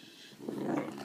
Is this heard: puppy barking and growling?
yes